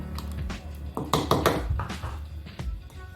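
Moi moi batter is mixed with salt in a bowl, giving a run of close scraping, clinking and wet stirring strokes against the bowl's sides at an uneven rhythm.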